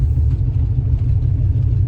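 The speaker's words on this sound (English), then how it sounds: "he's got a good sounding 350 engine here" A K5 Blazer truck's rebuilt 350 V8 runs loud and close, a continuous deep rumble with a slight uneven throb and no voices.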